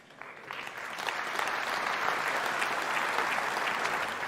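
An audience breaks into applause that builds from scattered claps into a steady, full wash of clapping lasting several seconds, with no talk over it.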